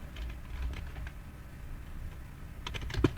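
Light, scattered key clicks from a computer keyboard during a PowerPoint tutorial, soft and close, with a brief cluster of quicker taps near the end and no talking.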